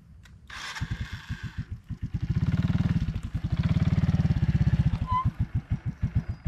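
A Suzuki motorcycle engine idles close by with a steady, rapid thumping that swells louder for a few seconds and then settles, with a short burst of noise near the start.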